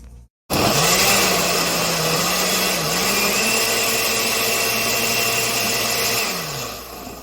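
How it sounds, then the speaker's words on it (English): A blender churns strawberry almond milk ice cream, starting abruptly after a brief pause and then running as a loud, steady motor whine with a grinding buzz that shifts pitch slightly before easing off near the end. "it just takes a little bit of churning on your mixer or your blender"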